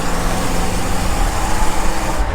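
A Buick Riviera engine running through a new exhaust, a deep, steady rumble close by that stays loud and even with slight pulsing.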